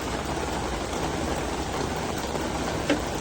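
Steady rain falling outside, a dense continuous hiss of drops on surfaces throughout, with one brief knock near the end and no talk.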